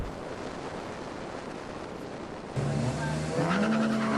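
Touring cars roar off the line together at a green-flag race start at Thunderhill Raceway, broad engine noise and tire rush building louder, then a rising engine note climbing through the gears as a car accelerates away.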